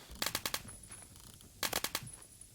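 An AN-94 rifle fires in a video game in two quick bursts of about five sharp shots each, separated by a short pause, fairly close and with no talking.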